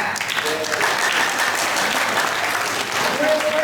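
An audience at a fun-themed workshop claps for Team Orange, a steady, dense round of applause that fills the room at close range and holds for several seconds without a break.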